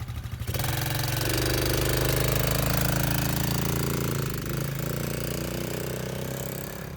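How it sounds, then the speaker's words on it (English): Taotao Cheetah 125, a 4-stroke electric start automatic ATV, revving up from idle into a loud, sustained engine drone that holds for several seconds, then eases slightly. "So go ahead, Adam, give it some gas"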